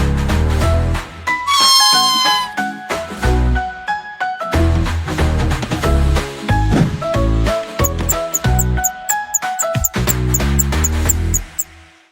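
Repeated cat meows pop out over a bouncy, upbeat children's tune, loud and close, with no talking.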